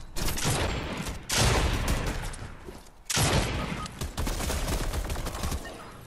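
Loud, rapid bursts of gunfire in Fortnite rattle in long volleys, broken by brief pauses, dense and close like automatic weapons.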